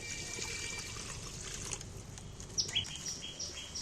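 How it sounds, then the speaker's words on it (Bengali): Water is poured into a wok on a stove while jackfruit is being cooked, making a faint, soft trickle with a few small bright clinks near the end. "কড়ার মধ্যে আমি বেশ একটু জল দিয়ে দিচ্ছি"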